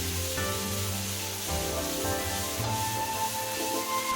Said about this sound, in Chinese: 把牛肚倒入锅中，投入青红海椒、芹菜节节，淋上少许料酒，大火快速翻炒均匀。